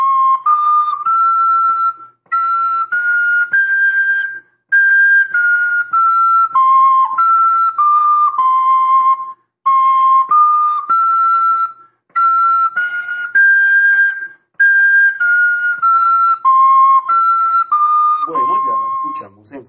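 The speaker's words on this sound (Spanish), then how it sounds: "pero esta vez con la segunda octava de la flauta que suena así" Soprano recorder playing in its upper second octave, a bright, pure whistling melody of short detached and held notes in a steady rhythm, loud and clear with no voices, ending on a brief noisy scrape.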